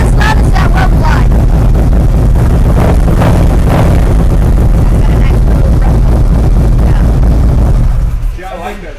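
A Harley-Davidson motorcycle being readied for dyno tuning idles with a loud, close, steady low rumble that fills the whole span, then cuts off near the end.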